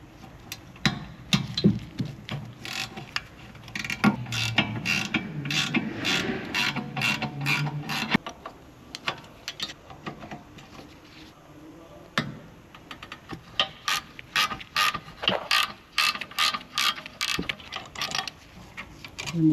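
Wrench loosening 13 mm brake caliper bolts on a VW during a brake pad and disc job, rapid ratcheting clicks in bursts with softer clanks and handling noise between, fairly close and quiet.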